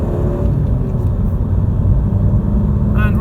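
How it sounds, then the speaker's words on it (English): A 1.6 diesel car accelerates hard with its engine floored, giving a steady, loud engine rumble and road noise throughout, heard from inside the cabin. "So if we floor the car, let's see how we get on."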